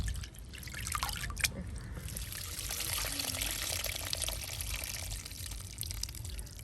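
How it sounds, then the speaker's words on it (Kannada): Water poured over ingredients in a bowl to wash and soak them, a continuous close splashing and trickling flow with a few drips, steady throughout. "ಮೂರು ಸತಿ ನೀರಲ್ಲಿ ತೊಳೆದು ಮತ್ತೆ ಇದನ್ನ ನೆನೆ ಹಾಕ್ಲಿಕ್ಕೆ ಇಟ್ಟರೆ ಆಯ್ತು."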